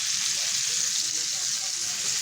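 Wagyu beef fries in a hot pan, with a steady close sizzle and scattered small pops of grease throughout.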